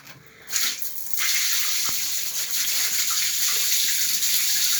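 Water runs steadily from an Acqualaf faucet, starting after a short quiet moment and settling into a constant close hiss and splash, with no one talking.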